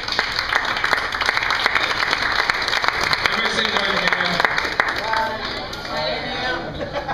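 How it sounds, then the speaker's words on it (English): Audience at a comedy club reunion show claps steadily through the whole stretch, dense applause with crowd chatter, while a voice speaks over it on a microphone. "Give a round of applause"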